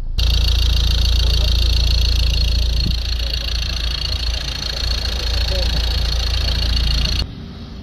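A Ford Transit 2.2 van engine idles just after starting, a loud, steady, close diesel rumble with an even low throb that runs throughout before cutting off abruptly near the end.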